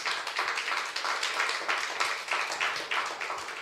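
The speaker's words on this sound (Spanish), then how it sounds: "Dele un aplauso fuerte al Señor." A church congregation gives a strong round of applause, dense and steady clapping with rhythmic pulses throughout, heard alone without talk.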